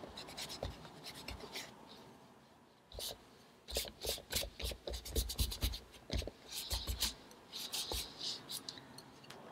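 Paint scrubbed into an art journal page with a brush, a quick run of dry, scratchy close-up strokes in a fast, uneven rhythm, fairly quiet, following a softer stretch of rubbing.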